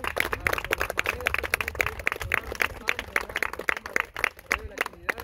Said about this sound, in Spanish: Un aplauso para nuestras autoridades, para los maestros